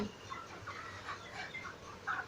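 Soft, scattered clucking from broiler chickens, faint and somewhat distant, with a low background hum.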